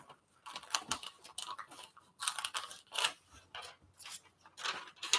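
Scissors cutting words out of a magazine page, a quick run of crisp snips and paper rustles in irregular bursts, close up and quiet, with no talking.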